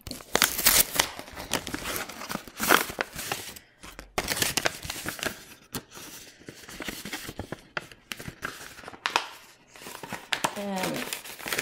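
A package sealed with washi tape being pulled open, with close crinkling, rustling and tearing of wrapping in repeated bursts, while a person talks throughout.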